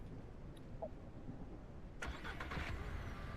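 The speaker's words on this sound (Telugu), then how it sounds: "ఇంజిన్ అయితే స్టార్ట్ అయిపోయింది" An old car's engine cranks and catches in the Ranch Simulator game, a sudden loud turnover partway through that settles into a rough, steady idle, with no voices over it.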